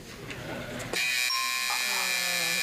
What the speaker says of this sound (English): I'm sorry, the buzzer beat you out.